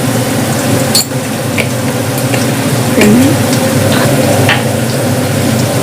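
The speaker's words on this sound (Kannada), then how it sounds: "ಈರುಳ್ಳಿ ಚೆನ್ನಾಗಿ ಫ್ರೈ ಆಗಬೇಕು." Onions fry in a pan with a loud, constant sizzling hiss, close up and steady throughout, with faint scrapes and ticks now and then.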